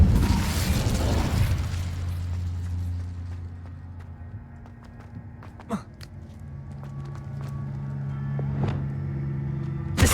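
Incendio fire spell cast in Hogwarts Legacy: a loud whooshing burst of flame at the start fades into a quiet hum, followed by a couple of sharp pops and clicks and a rising rush at the close.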